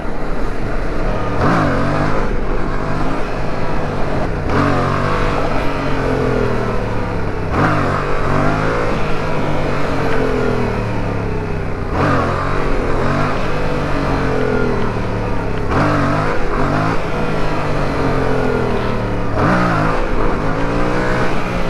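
Yamaha MT-07 motorcycle engine revving hard as it accelerates, with repeated rising sweeps through the gears up to third. The engine is loud, close and continuous, with no talk over it.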